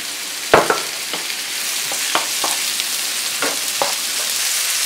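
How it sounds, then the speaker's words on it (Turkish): Tomatoes go into a pan of frying peppers and onions for eggplant gözleme filling, giving a loud close sizzle with a few sharp clattering stirs and spatula knocks, no voices. "Şimdi domatesleri ilave ediyorum."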